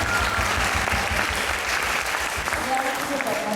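Dense, loud applause from a large audience at the closing of an international folklore festival, sustained and evenly heavy throughout with no pauses.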